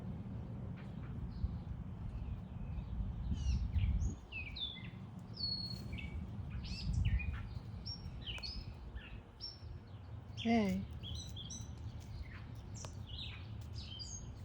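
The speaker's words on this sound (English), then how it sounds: "there's a bird in the tree that's very angry at you." An agitated bird calls from a backyard tree, repeating sharp chirps and scolding notes at a moderate distance, over outdoor background noise, with brief quiet human speech.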